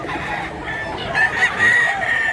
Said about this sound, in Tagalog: iba-ibang klaseng quality na manok.